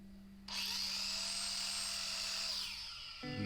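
A power drill spins up sharply and whines steadily for about two seconds, boring a 3/4 in hole into a wooden cleat in a workshop, then winds down before a brief clatter.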